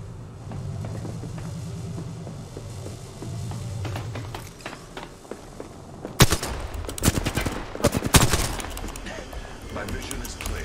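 Rapid bursts of gunfire in Apex Legends near the crash site on Kings Canyon, starting after a stretch of game ambience and sharp clattering shots repeating loudly over several seconds, with some speech present.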